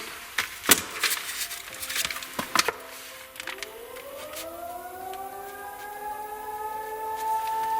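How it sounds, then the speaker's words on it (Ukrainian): An air raid all-clear siren slowly rises and holds a steady wail in the distance, preceded by a few scattered clicks and knocks. "У нас тим часом відбій повітряної тривоги."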